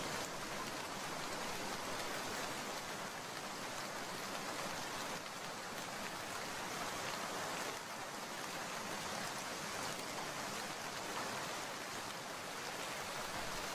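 Rain in an animated cartoon, a steady, even downpour hissing throughout at moderate level, with no voices over it.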